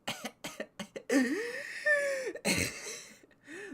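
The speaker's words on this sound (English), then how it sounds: "Me coughing in the microphone?" A run of sharp, close coughs in quick bursts, then a longer strained vocal sound and a few more coughs, loud and right up against the microphone.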